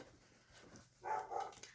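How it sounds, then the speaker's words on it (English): A pet dog barks indoors at someone pulling up out front, a faint, distant outburst of a few quick barks after a quiet stretch. "Sorry if you can hear the dog. Apparently somebody just pulled up out front and she does not like that."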